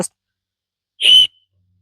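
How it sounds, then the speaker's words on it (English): A single short, shrill whistle blast from a cheap little whistle, loud and close, after a moment of silence. "So I got a whistle. It's just a cheap little whistle."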